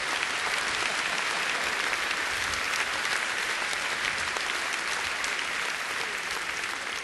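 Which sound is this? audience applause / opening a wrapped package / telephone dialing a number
audience applause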